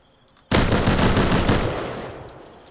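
A revolver shot in the survival game Rust lands as a sudden loud blast after brief quiet, followed by a rolling echo that slowly fades away.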